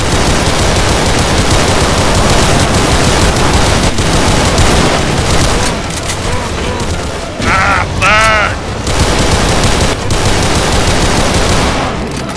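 Rapid video game gunfire crackles in dense automatic bursts, loud and continuous, with a few brief warbling electronic tones midway and a voice talking over parts of it.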